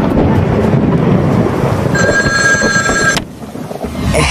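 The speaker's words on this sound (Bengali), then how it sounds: "বল্টুকে ফোন করে ডাকি।" An electronic telephone rings in one steady, sustained trill lasting about a second, heard over a constant windy, rumbling background with no talking.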